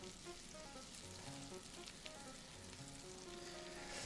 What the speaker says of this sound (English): Making some nice stir fry.